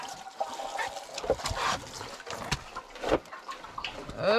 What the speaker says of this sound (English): This should help it drain some.